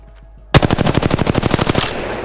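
A weapon fires in the Apex Legends video game as a rapid automatic burst, about fifteen close, loud shots in even rhythm that start abruptly and trail off into a brief echo.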